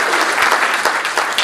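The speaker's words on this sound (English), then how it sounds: "Can we give a round of applause," Applause from an audience at a research colloquium, a thick continuous roar of clapping hands, loud and even across the whole moment.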